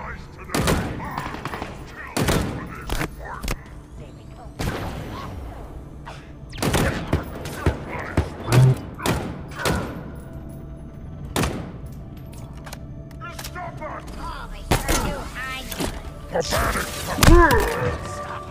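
Gunfire in the Halo Infinite campaign: loud, sharp shots fired in irregular bursts and single cracks across the stretch, with game ambience and thuds between them.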